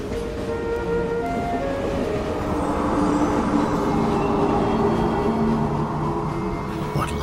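A continuous rumbling roar of a train running on the rails, loud and steady throughout, with faint whining tones riding above it.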